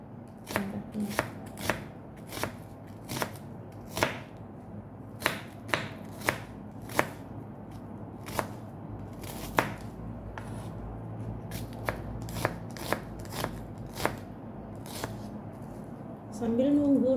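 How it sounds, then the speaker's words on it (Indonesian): A knife chops shallots on a cutting board during meal prep, sharp knocks landing in irregular bursts, close and clear over a low background hum, with a louder rustle at the very end. "Bawang putih sudah dipotong, sekarang bawang merahnya."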